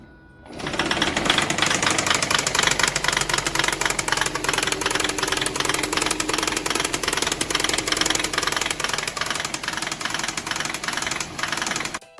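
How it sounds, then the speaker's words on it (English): A car engine with rod knock runs steadily, a loud, close mechanical rattle with a fast regular knocking tap riding over the idle throughout, no talking. "This customer brought their car in with rod knock"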